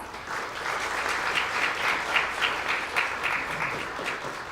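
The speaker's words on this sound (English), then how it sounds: "So please give them a round of applause." An audience at a university event on diversity and inclusion applauds steadily, a dense wash of many hands clapping at moderate distance, sustained and even.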